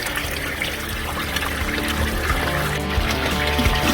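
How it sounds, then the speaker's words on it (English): A homemade bait tank filter pump runs steadily while water trickles and splashes continuously back into the tank. The sound is close and even, with no talking. "Pump's running."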